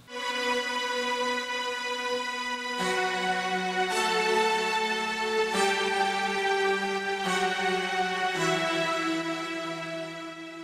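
A synth part: a sustained single-note synth line, bright and harmonically rich, stepping to a new pitch every second or two over a steady low bass, loud and alone with no voices.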